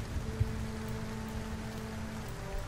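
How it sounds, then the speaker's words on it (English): Steady rain patters in a soft, even wash, with a low hum underneath and a faint tap near the start, during a thunderstorm in the video game Kerbal Space Program. "And yes, it is raining on us now."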